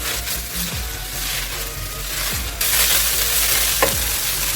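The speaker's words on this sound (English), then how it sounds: "here I brought in the minced fish. I increased the heat to medium heat now, and we're going to fry this for 5 minutes" Minced fish frying in a pan over medium heat, with a steady sizzle throughout, broken by scraping stirs near the start and again around the middle and end. The sizzle grows a little louder partway through, and no one speaks.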